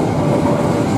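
A garbage train in Indonesia rumbles past close by, a dense, steady roar of wheels and rolling cars.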